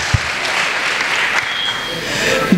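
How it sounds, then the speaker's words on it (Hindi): A hall audience at a Hindi poetry recital bursts into loud, continuous applause that fills the whole short moment. "इस बात पर भी एक बार जोरदार तालियां बजनी चाहिए"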